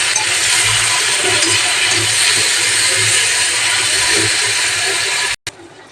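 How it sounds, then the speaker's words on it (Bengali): Shrimp frying in a pan after onions, producing a loud, steady, hissing sizzle heard close up and alone, cutting off abruptly near the end. "এবার আমি চিংড়ি মাছটা ঢেলে দিলাম। এবারে এটা একটু ভেজে নেব।"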